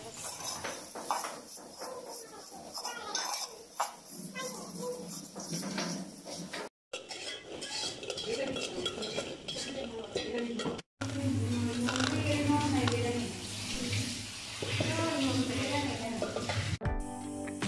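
Vermicelli frying and being stirred in a pot in a hostel kitchen, a crackling sizzle with scraping and clinking of the pot, broken by brief cuts, with occasional faint voices.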